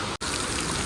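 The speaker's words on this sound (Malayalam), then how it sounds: "നല്ലൊരു മഴ പെയ്തോടെ" Heavy rain pouring down in Palakkad, a dense, loud, unbroken wash of drops on surfaces with only a momentary dip, no voices.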